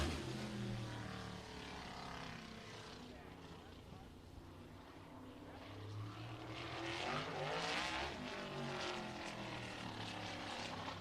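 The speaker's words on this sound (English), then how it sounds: "The 18 of Shane Butler off and going for his warm-up lap." A race car engine on a warm-up lap at Showtime Speedway in Pinellas Park, Florida drones steadily from a distance, rising and falling in pitch as it circles, under continuous commentary.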